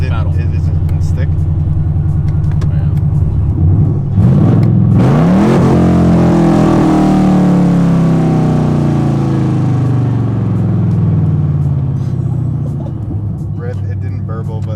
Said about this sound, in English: what happens when I downshift this car now with the dumps